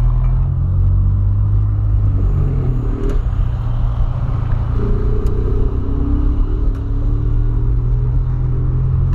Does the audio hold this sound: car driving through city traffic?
yes